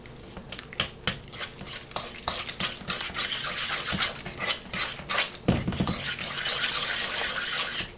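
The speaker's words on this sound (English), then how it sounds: "Just keep mixing it and it'll come together again." Egg being mixed by hand into choux pastry dough in a bowl, with a wet, sticky stirring and slapping rhythm of quick irregular strokes that carries on steadily and close up.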